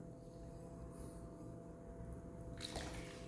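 Clay walls on a potter's wheel being wetted during throwing, a faint close squish and drip of water over a quiet hum, with a brief louder splash near the end and no talk.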